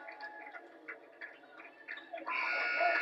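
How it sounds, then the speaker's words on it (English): At a high school girls' basketball playoff game, a harsh electronic game-ending buzzer starts late and holds steady to the end, after a stretch of faint ticking blips. "The buzzer sounds"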